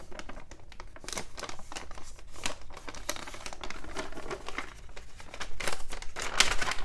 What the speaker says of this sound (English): I'm gonna fold this in like a fan pattern